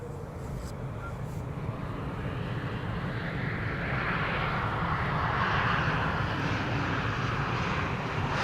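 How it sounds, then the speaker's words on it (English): A KLM Embraer E2 195 jet returning from Zurich comes in to land, a steady broadband engine roar at moderate distance that builds gradually and holds, with no talking. "It's an E2 Embraer 195."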